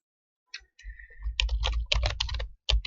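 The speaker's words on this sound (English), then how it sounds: "So just type anything, blah, blah, blah. Have your fingers go all over the place." Fingers rattle across a computer keyboard in quick, irregular bursts of close clicking keystrokes, with a short pause before a final flurry.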